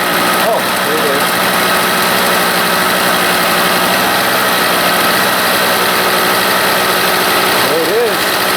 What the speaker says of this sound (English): Restoration of the Harbor Freight generator. This one never did run very smooth.